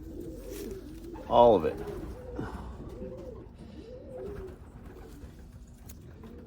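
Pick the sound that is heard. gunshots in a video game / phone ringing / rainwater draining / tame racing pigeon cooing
tame racing pigeon cooing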